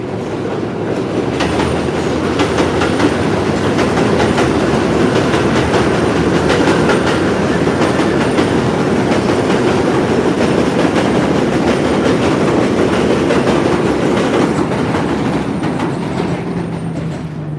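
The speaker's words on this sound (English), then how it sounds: "That, my friend, is the one train." A New York City subway train on the 1 line rumbles past close by, its wheels clattering steadily over the rails in a loud, continuous roar with faint squeals near the end.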